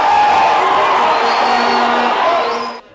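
A home crowd at an under-17 Africa Cup of Nations football match in Rwanda cheers and shouts loudly and steadily, a dense roar of voices and whoops, fading away at the very end.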